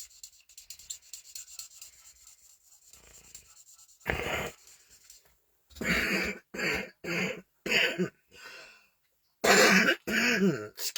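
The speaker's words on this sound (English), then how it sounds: "Excuse my coughing." Faint rubbing and scratching at first, then a person nearby coughs and clears their throat repeatedly in short, harsh bursts.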